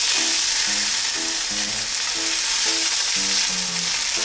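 Green onions sear in a hot pan with a constant loud hiss of frying, steady and close, while occasional sparse low clunks sound from the pan.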